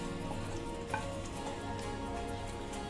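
Mixed vegetables and capsicum fry in a pan, giving a steady, even sizzle that stays close and unbroken throughout, with no talking.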